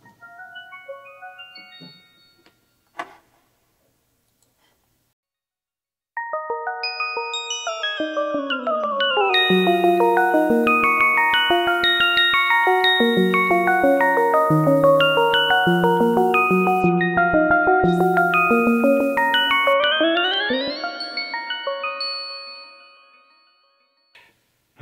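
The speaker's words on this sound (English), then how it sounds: "This is a FM bells with the random arpeggiation, and it also morphs using two synths in the Yamaha AN1X using the modulation wheel." FM synth bells from a Yamaha AN1X play a random arpeggio of bright, chiming notes that pile into a dense, ringing cascade, morphing between two synth layers before fading out; a few isolated bell tones come first, and no one speaks.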